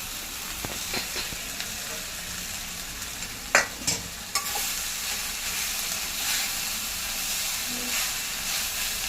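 Poha sautéing in a pan with asafoetida gives a continuous sizzling hiss, broken by a few sharp scraping clinks of a spatula partway through; close and steady, with no talking.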